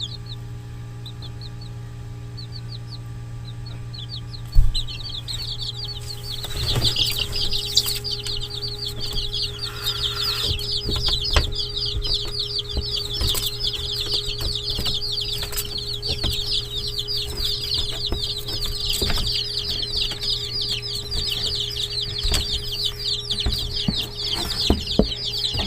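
Young chicks and hens in a backyard poultry setting, with dense high chirps and clucks running continuously over a steady low hum, fairly close and moderately loud.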